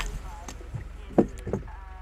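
Seatbelt unfastening sound effect from an LSPDFR plugin in GTA V: two quick, soft latch clicks about a third of a second apart, heard over a faint low hum.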